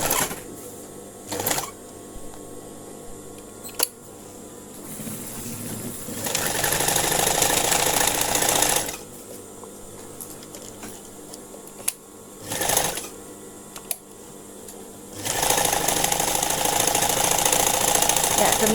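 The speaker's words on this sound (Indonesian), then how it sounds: "Kita gunakan mesin khusus untuk membuat mata kancing." A buttonhole sewing machine stitches buttonholes for a school uniform shirt, its rapid mechanical whirring running in loud bursts of several seconds separated by quieter pauses with faint clicks and thumps.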